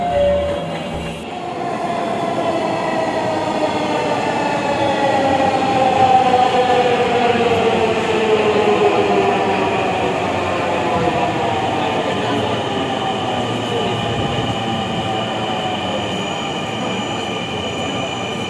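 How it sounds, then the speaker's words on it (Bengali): A Dhaka Metro rail train pulls in loud and close, with a long rising rumble and bright, drawn-out wheel squeal sweeping across the station for the whole stretch. "মেট্রো রেল এসে পড়ল"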